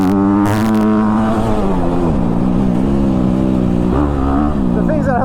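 A Honda CRF250R four-stroke dirt bike engine running loud and close throughout, its pitch rising and falling steadily as it is ridden, with a short burst of wind noise early on.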